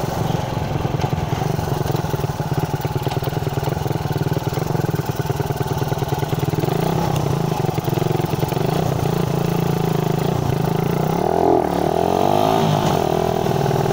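A Suzuki Raider 150 Fi motorcycle with its stock exhaust pipe runs close by, a steady buzzing engine note with a few throttle blips and rising revs toward the end, continuous and fairly loud.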